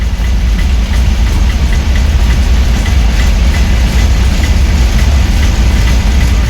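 A double-engine goods train rolls past close by, a loud, steady low rumble of engines and wagons that holds without a break from start to end.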